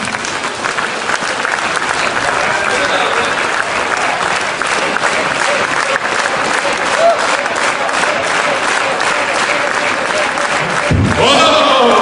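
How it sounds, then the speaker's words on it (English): Event audience in Mexico applauding steadily and loudly for about eleven seconds, dense continuous clapping with crowd noise, ending with a brief shift near the close. "Put their hands together. Start clapping."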